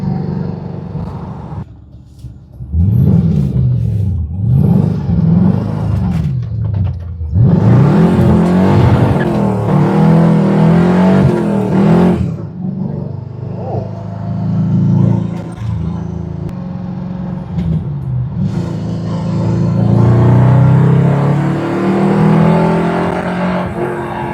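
Mercedes V8 engine fitted in a Ford Capri, revving hard and loud through repeated rising and falling sweeps, with sustained roaring bursts between short pauses and no talk over it.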